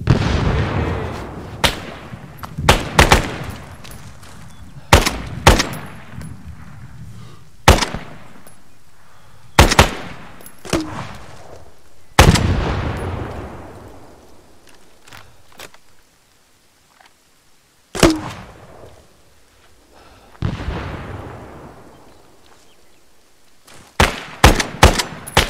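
Gunfire in an Arma 3 Vietnam field training exercise: loud, sharp rifle shots and short bursts arrive in scattered volleys with echoing tails, separated by quieter gaps.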